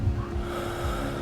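An injured man breathes in the video game Accident after being hit by a vehicle, with a short, rough, snorting breath up close, heard alone.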